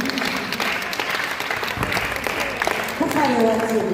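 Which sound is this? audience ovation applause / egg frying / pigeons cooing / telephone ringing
audience ovation applause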